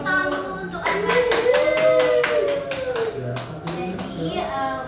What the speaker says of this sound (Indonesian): Oke, kita tepuk tangan dulu untuk Arbain.